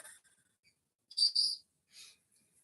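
A pet cockatoo gives a few short, high, squawking calls in quick bursts, faint and somewhat distant, separated by near silence.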